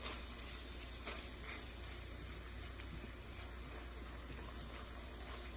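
Onion keema, minced meat with onions, frying in a pan, with a continuous hissing sizzle and occasional stirring scrapes, close and steady with no talking.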